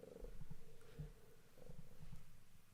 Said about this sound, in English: He's purring very loud.